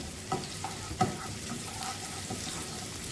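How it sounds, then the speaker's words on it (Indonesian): Garlic and chopped chili sauté in hot oil in a pan, producing a continuous close sizzle punctuated by a couple of sharp spatula scrapes and taps. "tumis bawang putih dan cabai cincang yang tadi. Ini tumis sampai harum, sampai benar-benar matang."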